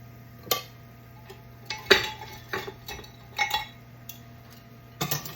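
A utensil scraping and clinking against a pan while flour is stirred round and round into a bacon grease roux, a soft rhythmic tapping with occasional sharper knocks over a faint steady kitchen hum.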